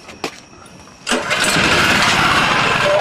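A generator engine running on hydrogen fuel, choke on, gives a few faint clicks and then catches and starts, settling into a loud, steady, rough running roar.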